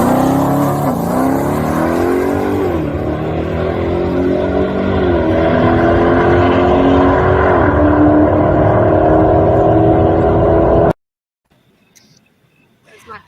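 A drag racing car at full run, its engine roaring loud and continuous with rising gear-change sweeps for about eleven seconds, then cutting off abruptly to near silence with faint background noise.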